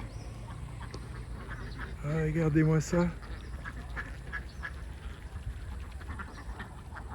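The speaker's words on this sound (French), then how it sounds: "Un élevage de canards, ils sont nombreux" A crowd of farmed ducks in Vietnam's Mekong Delta quacks loudly in a burst of overlapping calls, with a person speaking briefly nearby over steady outdoor background noise.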